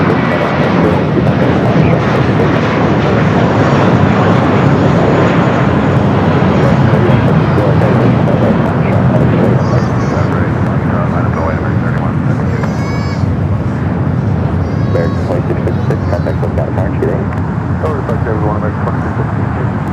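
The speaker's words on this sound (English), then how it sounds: "That was the flight heading to Cabo, flight 2656, an A321." Airbus A321 jet taking off from LAX, its engines a loud sustained roar lasting throughout, with faint background traffic and occasional bird calls.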